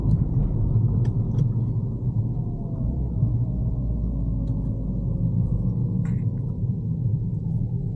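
A car cruising on a road during a driving lesson, held in third gear before shifting toward fifth, gives a steady loud engine and road rumble throughout, with no talk.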